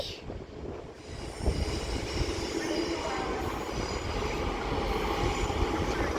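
A Class 323 electric multiple unit pulls into Manchester Airport station, a rumbling roll of wheels with a rising mechanical hum and faint squeal, steady and fairly close under the station canopy.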